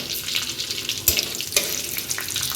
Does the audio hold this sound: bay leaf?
yes